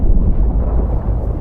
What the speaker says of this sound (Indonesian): Saat sampai di dasar, torpedo meledak di dasar laut.